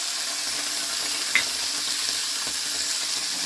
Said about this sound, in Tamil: இதெல்லாம் கொஞ்சம் நல்லா வதங்கணும், ஏன்னா இதை நம்ம அரைக்க போகிறோம்.